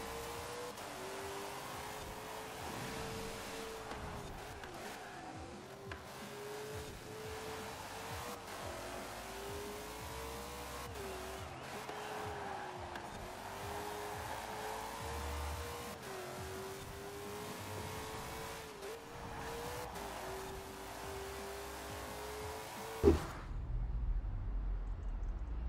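Ford GT40 MK1 race car in the Forza Horizon 4 video game, a continuous engine drone rising and falling with gear changes, steady and moderately loud, ending with a sharp hit and a brief low rumble.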